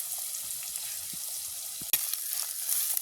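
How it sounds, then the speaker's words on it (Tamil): Onions, chilies and garlic sautéing in a pan at a village cooking setup, a steady soft sizzle with faint scrapes and one brief knock midway, no speech. "எங்களுக்கு வெங்காயம் கொல்லிக்காய் உள்ளி எல்லாம் நல்லா வதங்கிட்டுது"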